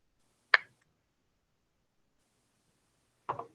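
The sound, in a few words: knuckle cracking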